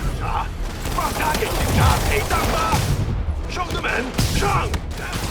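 A gunfire shootout in Marvel's Spider-Man Remastered, played on PS5: rattling bursts of shots and mechanical clatter repeat through a loud, busy action scene.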